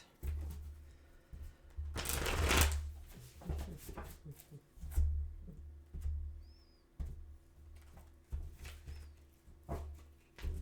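Soft riffling and shuffling of tarot cards close by, in several short bursts with quiet gaps between them.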